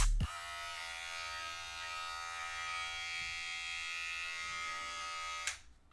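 GAMMA barber hair clippers buzz with a steady, even electric drone at close range, starting abruptly and holding level for about five seconds before switching off, with no talking.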